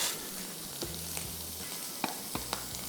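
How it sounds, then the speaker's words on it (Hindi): Mushrooms sizzle steadily in the same frying pan used for eggs while making a full English breakfast, with a few sharp clicks and utensil taps over the continuous hiss. "उसी पैन में इसमें फ्राई कर रहा हूँ जिसमें अंडा फ्राई हुआ था"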